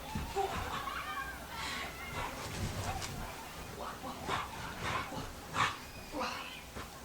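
A strong, playful dog yips, whimpers and grunts in short bursts during a tug game indoors, with people talking and laughing over it.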